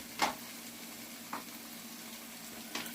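Okra and chicken frying in oil in a pan, a soft steady sizzle with a few brief clinks or scrapes of stirring at intervals, quiet and close.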